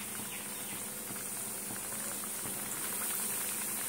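Small homemade snacks, seven pieces, bubbling and frying in a pan of hot oil, a steady fizzing hiss with faint crackle throughout, close and even, with no talk.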